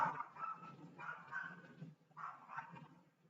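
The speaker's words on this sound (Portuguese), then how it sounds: "esse cachorro, cala a boca" A dog barking indoors in a home, several loud yips and barks in bursts over a few seconds, close to the microphone.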